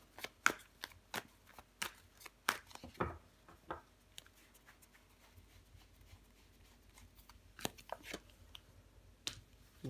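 Tarot cards shuffled and handled at close range: a quiet series of crisp papery riffles, slaps and flicks in irregular bursts, with no talking.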